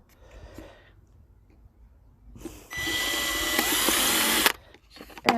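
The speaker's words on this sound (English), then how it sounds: "Here's a drill. Try and get it in a hole there." After a quiet stretch with faint handling noises, a power drill whines loudly for under two seconds at close range, then stops.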